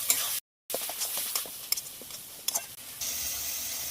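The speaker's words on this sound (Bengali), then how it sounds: "সব কিছু দিয়ে ভাজার জন্য খুব ভালোভাবে নেড়ে দেবো" Spices and turmeric, chili powder and salt are stirred in a frying pan for a potato-cauliflower biryani, soft scraping and light sizzling close by, broken by a brief dropout and a few sharper clacks.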